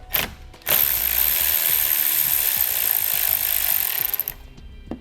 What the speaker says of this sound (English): Now we'll remove the nut on the negative terminal.